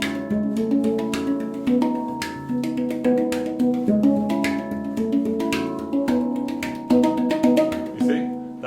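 Handpan played with loud ghost notes, a dense run of quick metallic strikes ringing over a sustained bright harmonic wash, with steady rhythmic attacks throughout.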